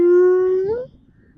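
A mimicry artist's voice imitates a dog's moody whining howl: one loud, close, sustained tone lasting under a second that bends upward at the end before cutting off.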